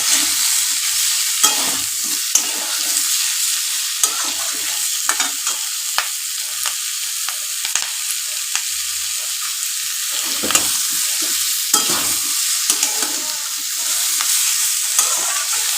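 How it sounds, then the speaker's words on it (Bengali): Sliced onions fry in oil in a pan until translucent for an old-style Bengali fish piyaji kalia. A steady sizzle runs throughout, broken by repeated scraping stirs of a spoon, with no voices. "এইটা পেঁয়াজটা ট্রান্সপারেন্ট হওয়া পর্যন্ত আমরা ভেজে যাব।"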